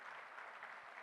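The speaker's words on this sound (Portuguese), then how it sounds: "Ele aplaudiu." An audience at a gathering of pastors and church leaders applauding, faint, steady clapping heard from a distance for a brief moment.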